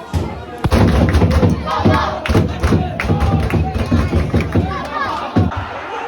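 Crowd at a football match cheering and chanting, loud and close, with rhythmic thumping claps and shouts surging in bursts throughout.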